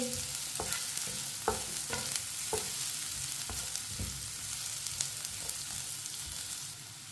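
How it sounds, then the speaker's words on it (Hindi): Onions fry in a pan until lightly browned for bitter gourd curry, a steady soft sizzle broken by regular scraping stirs of a spoon, close and moderately loud with no talking. "प्याज को हल्का सा ब्राउन कर लेंगे।"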